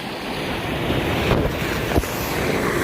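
Large waves crash and surge along a beach in a steady, loud roar, with strong wind buffeting the microphone throughout and a couple of sharper surges breaking through.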